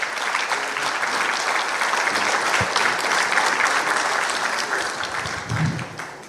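Sustained applause from an audience, dense clapping that continues steadily and tapers off slightly at the end.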